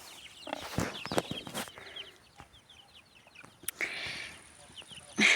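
Chicks clucking and cheeping in short bursts in an outdoor enclosure, fairly close, with scattered rustling and knocks around them.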